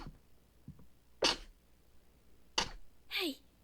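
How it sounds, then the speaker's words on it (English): A single sharp sneeze bursts out in a Final Fantasy XVI scene, followed by a second shorter burst and a sniffly exhale, with quiet breathing between. "I'm about to sneeze."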